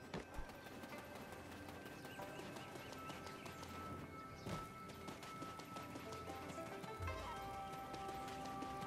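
A horse in the online game Black Desert Online makes rapid clip-clop hoofbeats and an occasional snort or whinny, with game sounds and ambience underneath, moderately quiet and continuous.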